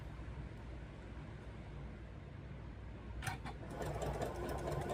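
A sewing machine runs steadily while stitching a quilted ornament, a continuous low mechanical hum with a slightly busier, brighter stretch near the end.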